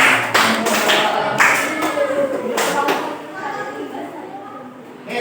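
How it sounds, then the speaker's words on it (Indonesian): A classroom of children applauding a student, a burst of scattered clapping that fades over a few seconds under a teacher's voice. "tepuk tangan untuk Yuan"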